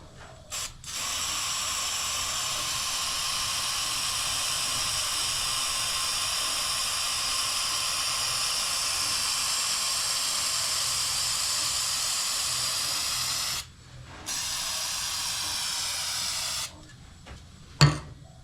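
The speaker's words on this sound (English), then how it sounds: "we'll give that a squirt of lacquer and we'll see what it looks like" Lacquer sprays onto a wooden goblet turning on a lathe at 50 RPM as a long, loud, steady hiss. It stops briefly, resumes, then ends with a short clunk.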